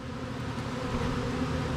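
Honey bees buzzing in a steady, dense drone at a hive, continuous and fairly close throughout with no talking.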